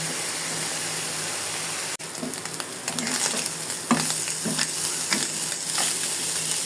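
Kachki fish and green chillies fry in oil in a pan, a steady moderate sizzle broken by a sharp knock, then a run of scraping, clinking stirring strokes, with no speech.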